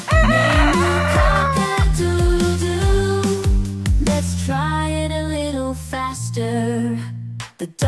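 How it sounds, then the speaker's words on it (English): A cartoon-style rooster crow sounds over a bouncy farm-animal nursery rhyme backing, bright and loud at close range, with musical notes stepping along beneath it. "The roosters on the farm say cock-a-doodle."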